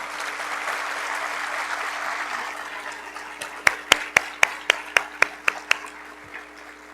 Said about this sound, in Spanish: pedimos desde ya un aplauso y le agradecemos su presencia